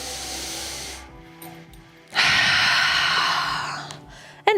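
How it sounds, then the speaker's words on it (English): A full, breathy inhale during a power flow yoga session rises sharply and holds for about two seconds after a quieter stretch, followed by a short airy catch at the end. "Take one more full inhale."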